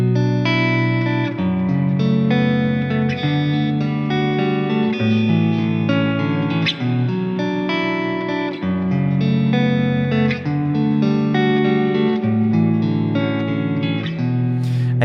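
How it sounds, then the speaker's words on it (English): Guitar playing a chord progression of open-string add11 chords, strummed chords ringing and changing every second or so with a full, sustained tone, steady and alone throughout. "I can reorder these chords or even take the same order I played and make a cool chord progression that sounds like this"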